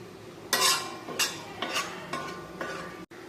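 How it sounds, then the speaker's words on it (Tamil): Beef curry stirred and dry-roasted in a pan: several scraping, rustling strokes of a utensil through the meat, each a short swish with a soft sizzle beneath, close and fairly quiet, with no talking. "இதை இனி கறியாமல் கிண்டணும்."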